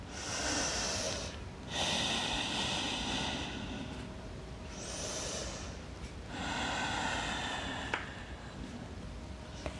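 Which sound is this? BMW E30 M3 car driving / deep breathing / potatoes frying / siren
deep breathing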